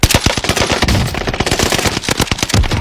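Rapid automatic gunfire in a battle royale video game rattles out in loud, dense bursts across the whole stretch, close and punchy with no voices over it.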